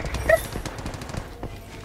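Rapid gunfire in the battle-royale shooter Apex Legends crackles in quick irregular bursts, moderately loud, with no talk over it.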